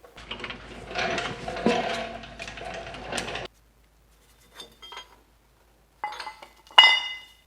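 Metallic ratcheting and clinking from an 18mm socket on a breaker bar loosening U-bolts while a lift kit goes onto a Nissan Xterra: about three seconds of steady rattling work, then silence broken by a few short, sharp clinks.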